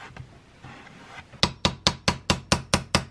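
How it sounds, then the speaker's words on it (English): Brief soft scuffing, then a hammer strikes the top of a wooden shield about eight times in a steady, even rhythm, each blow sharp and close. "I'm just putting hammer marks in the top so it looks like a hammered piece of metal"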